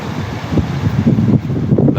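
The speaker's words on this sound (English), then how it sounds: "It just happens to be a bit of a windy day, unfortunately." Gusty wind buffets the microphone outdoors on a blustery morning walk, a steady low rumble with swelling surges that never lets up for the whole stretch.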